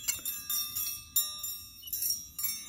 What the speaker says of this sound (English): And this is a bell.